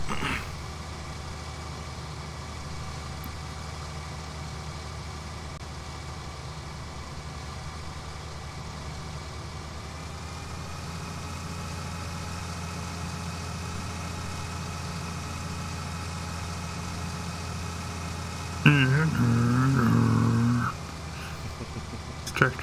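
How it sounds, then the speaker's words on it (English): Tractor engine in Farming Simulator 19 drones steadily at a low, even pitch throughout, with a louder, rougher burst of mechanical noise near the end. "This tractor is too fast."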